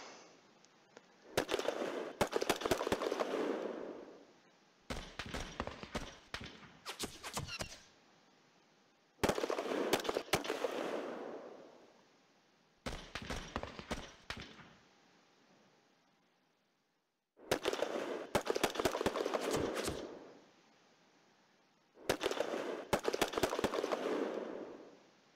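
Gunfire in the WWII wargame Panzer Campaigns Stalingrad '42: six short bursts of rapid, crackling shots, each a second or two long, separated by brief silent gaps, fairly distant and moderately loud with no talking.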